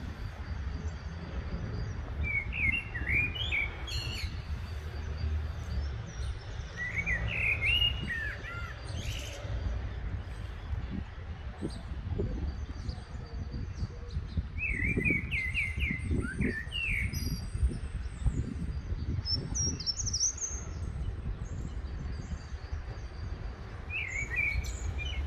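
A blackbird sings short warbling phrases at intervals, fairly faint and distant over a constant low background rumble, with no one speaking.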